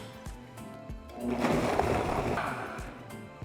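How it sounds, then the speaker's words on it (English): A kitchen blender purees red enchilada sauce made with beef broth, a whirring motor surge swelling in the middle and then easing, fairly faint, with no talking. "now we're just going to blend until we have a smooth sauce"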